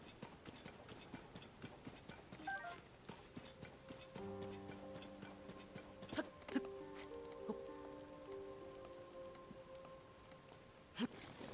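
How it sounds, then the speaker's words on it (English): Steady rain falls in a Zelda game, a soft continuous patter of drops that runs through the whole stretch, with a few sharper game sound effects and a sustained musical tone layered over it. "Of course it's raining."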